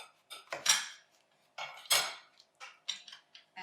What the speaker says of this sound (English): So I'm just going to cut this lemon.